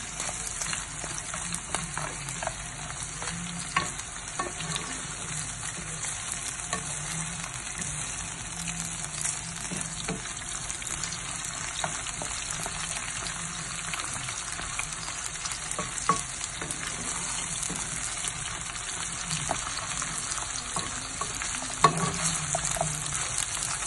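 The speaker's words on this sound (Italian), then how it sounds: "Alziamo la fiamma, facciamo cuocere 5 minuti a fiamma alta." Diced pancetta and pumpkin sizzle steadily in a pan over a high flame, a loud, continuous frying hiss with scattered pops and occasional stirring scrapes, and no talking.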